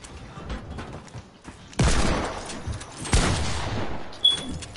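A shotgun fires in a video game with two sharp, loud blasts about a second and a half apart, each followed by a brief noisy tail amid quieter game sounds.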